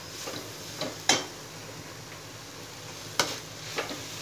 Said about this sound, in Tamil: சேர்த்துட்டு நல்லா கிண்டி விடுங்க.